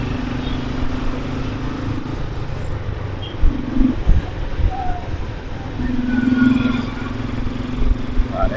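Dense street traffic of motorcycles and cars in a Medan jam, a continuous engine drone with passing motorbike whines and brief horn toots, mid-distance, with scattered clatter.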